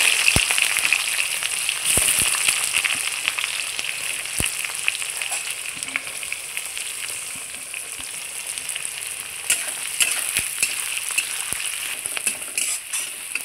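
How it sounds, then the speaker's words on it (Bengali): Chopped onions fry in hot oil with spice masala for a spicy chicken curry, giving a loud, steady sizzle that crackles throughout, with occasional sharp clicks of a spoon against the pan. "আমি পেঁয়াজটা খুব সুন্দর করে ভেজে নেব, সোনালি কালার যতক্ষণ না হয়েছে পেঁয়াজটা ততক্ষণ আমি ভেজে নেব"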